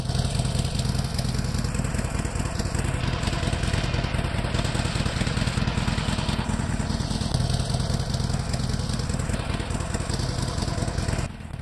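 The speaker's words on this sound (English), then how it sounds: "The motorcycle kind of works like a horse in Skyrim" A driveable motorcycle in a Fallout 4 mod gives off a steady, loud, close-up engine drone with a rough, buzzing mid-range rumble that holds constant throughout before dropping off slightly at the end.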